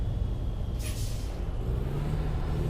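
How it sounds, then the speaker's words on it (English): Air brake hiss from a truck in American Truck Simulator, a short loud burst of hissing air over the steady low rumble of the engine, no voices. "I don't know why I braked for that corner."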